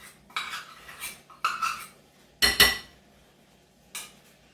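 Metal utensils clink and scrape against a bowl while peanut butter is added to a melted chocolate mixture, a few distinct knocks and scrapes with quiet pauses between them.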